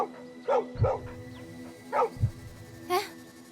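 A dog barks several times in short bursts, fairly close, with pauses between the barks.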